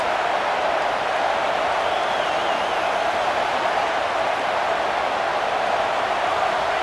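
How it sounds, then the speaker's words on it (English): A home football stadium crowd roaring to help its defense, a dense, loud, continuous wash of massed voices that holds steady throughout, heard from within the stands. "Listen to this crowd just shaking the girders of this place trying to help their defense"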